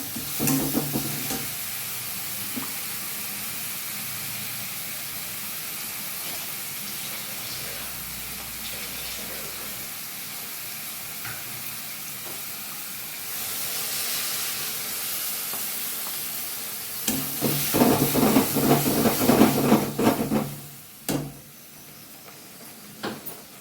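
Water splashed into a hot pan for a sponge gourd and prawn curry gives a steady sizzle and hiss, swelling near the end into louder crackling and spattering, then settling to a low simmer.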